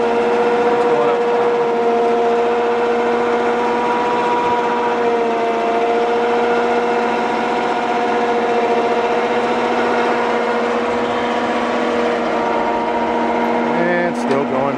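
Bed-mounted winch on a 1995 Ford F150 pulling a heavy load, a steady loud motor drone with a strong hum that holds level throughout, plus a brief rattle near the end.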